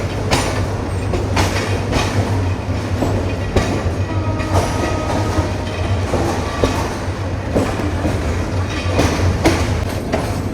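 Passenger train on the Chittagong to Dhaka line running along the tracks, a loud steady rumble from inside the carriage with rhythmic clickety-clack wheel beats and occasional squeals.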